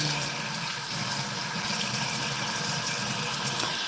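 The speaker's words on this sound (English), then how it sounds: "and then you gotta fill the cups up with water" Water running steadily to fill cups, a continuous hissing splash at a low, even level with no talk over it.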